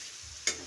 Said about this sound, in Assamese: আলুটো অকণ ভাজি ল'ব